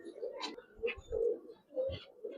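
Pigeons of an old Giribaz breed coo in a few soft, throaty bursts with short pauses between, close and fairly quiet, with no talk.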